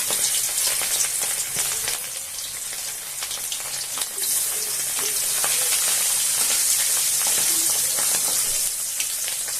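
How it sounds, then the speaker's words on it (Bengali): Steady, loud sizzling of khoira fish frying in hot mustard oil, a dense crackling hiss with scattered pops that continues without pause. "মাছটা আমার ভাজা হয়ে গেছে"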